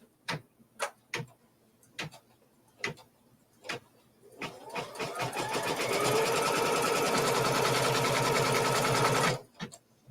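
Sewing machine stitching a quilt block, starting with several separate ticking clicks and short bursts, then a steady fast whirring run of stitches for about four seconds before stopping, close and alone.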